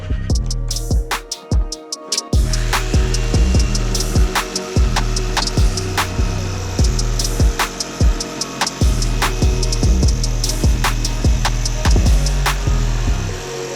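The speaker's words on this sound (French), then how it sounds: "j'ai fini de couper les planches à la sauteuse" A jigsaw cuts through wooden planks in a rapid, rhythmic series of loud, close rasping strokes that continue steadily.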